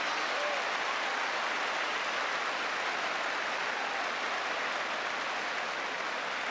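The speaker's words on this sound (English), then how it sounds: "Great applause from the crowd" Dense, even applause from a large football crowd at Stoke City against Arsenal, a continuous loud hiss of many hands clapping that holds steady throughout with no talk.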